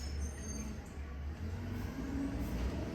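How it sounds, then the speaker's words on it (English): A trash truck rolls past outside, a steady low rumble of engine and tyres with faint brake hiss, filling the background at moderate loudness without any speech. "it sounds like the trash truck is going through"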